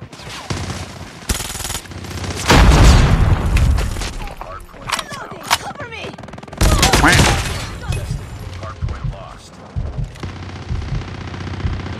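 MAC 10 fire in Call of Duty Mobile: loud, dense automatic bursts in several clusters mixed with other shots and game effects, while a player talks over it.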